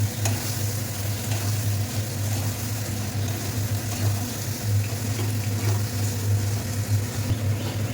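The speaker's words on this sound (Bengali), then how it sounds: "এবার আমি চিকেনগুলো দিয়ে দিচ্ছি চিকেন দিয়ে একটু কষিয়ে নেব" Chicken pieces sizzle and get stirred in a spice masala that has released its oil, for a chicken tikka malai curry. A steady, close frying hiss runs the whole time under a low hum, with no talk.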